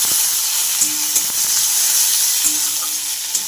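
Ginger garlic paste and chopped tomato sizzle in a hot pan while being stirred, a continuous bright frying hiss with a few soft utensil scrapes and taps, close and steady.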